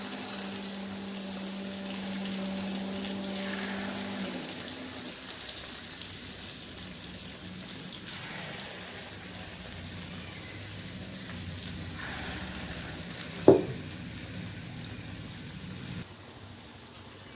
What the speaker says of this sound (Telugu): ఆయిల్ కాగింది, పిండి నానింది. ఇప్పుడు వేసుకుందాం.